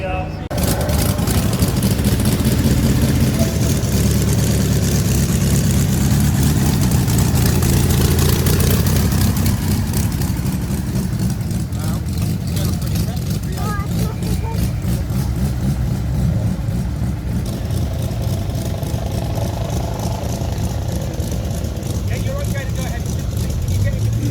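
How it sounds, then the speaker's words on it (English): Motorcycle engines idle and rev at the start line of a hill climb, a continuous mid-pitched mechanical rumble with occasional throttle blips, running steadily under someone talking throughout. "motorcycles just on the start line now as we head into our next batch of cars."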